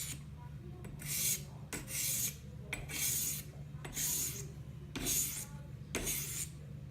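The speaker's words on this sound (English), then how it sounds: "Should be a lot more pronounced since I'm only sharpening one direction." A knife blade is drawn across a 600-grit stone in a guided sharpener, making six evenly spaced rasping strokes in one direction, close and clear with brief pauses between.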